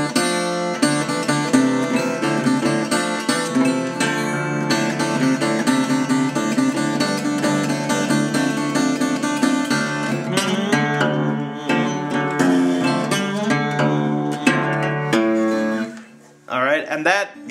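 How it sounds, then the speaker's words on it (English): A dense, sustained Delta blues acoustic guitar passage, with steady strummed chords and melodic runs, an instrumental break played continuously without singing before briefly cutting out near the end. "there comes an instrumental break where he doesn't sing and it'll sound like this"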